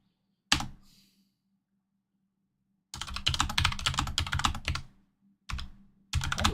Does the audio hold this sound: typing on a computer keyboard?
yes